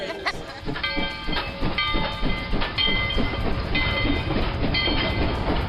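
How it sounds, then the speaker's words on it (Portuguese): A steam train runs along its rails, with rhythmic clattering of wheels over track joints and a sustained high whistle-like tone above a steady rumbling mechanical roar, loud and fairly close. "O deslizar pelos trilhos, a potência da máquina a vapor que esparrama fumaça pelos ares, o apito agudo ao chegar ou partir da estação."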